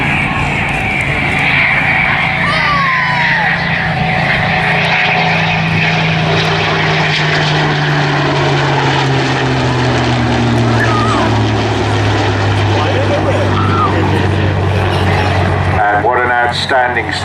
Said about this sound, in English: Now in formation with the BBMF Spitfire.